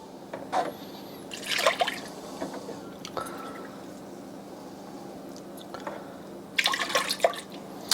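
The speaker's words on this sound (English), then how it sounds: "We're going to add 2 cups of milk." Whole milk pours into a pot for butterbeer in two wet, splashy bursts separated by quieter dribbling and small clinks, close and fairly soft with no talking.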